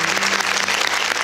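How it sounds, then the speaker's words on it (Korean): Studio audience applause on a televised Korean quiz show, a dense steady wash of clapping filling the whole moment at strong, even loudness. "아, 박수 한번."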